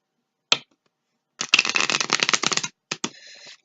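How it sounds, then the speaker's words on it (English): Playing cards riffle-shuffle in short crisp bursts: a brief flick, a longer fluttering run of cards interleaving, then a couple of quick snaps and a final squaring riffle, close and dry. "These cards are really being shuffled, as you can see, being shuffled into one another."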